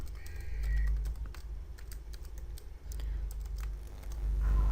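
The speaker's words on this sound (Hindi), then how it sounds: "अब मैं यहाँ पे एक टेक्स्ट लेयर लेता हूँ और एक नाम टाइप कर देता हूँ" Rapid keystrokes on a computer keyboard typing a name, close and clear, irregular bursts of clicks over a low background hum.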